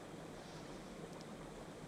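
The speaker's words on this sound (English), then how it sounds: "There's a soft, gurgling sound as the water goes over the rocks." Water in a stream gurgles over rocks as a steady, soft, continuous rush with no pauses and no voices.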